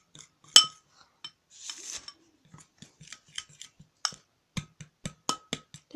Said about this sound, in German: und jetzt gut umrühren